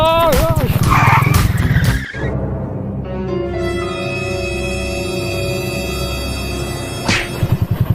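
A vehicle is stuck in mud on a rough road beside paddy fields, its wheels spinning with a sustained, whining engine rev and skidding tone. A voice talks briefly at the start.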